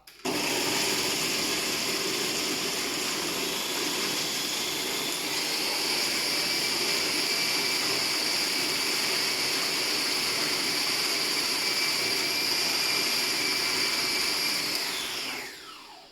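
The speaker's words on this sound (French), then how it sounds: "donc maintenant je vais mixer" A blender mixing chicken livers whirs steadily at high speed for about fifteen seconds, a loud, constant motor whine that winds down at the end.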